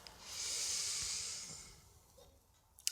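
A slow, soft inhale through the nose during a beginner yoga session, a gentle airy breath that swells and fades over about two seconds, close and quiet with no talking.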